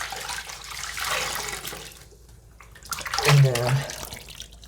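Water splashes briefly while a face is rinsed after a skincare treatment, a short burst of close splashing and dripping following quiet talk.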